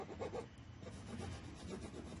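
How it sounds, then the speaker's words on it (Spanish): A hand file rasps across a steel workpiece being shaped, with quiet, repeated scraping strokes, close but faint. "se lima el material para poder darle la correcta forma"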